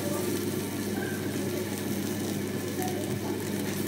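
Curry leaves and a pinch of asafoetida sizzle in hot oil for lemon rice, giving a steady, dense frying hiss that stays close and even throughout, with no talking.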